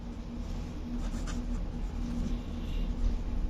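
Pen scratching on paper as an arithmetic progression answer is written out, a soft continuous scribble close by over a low steady background hum.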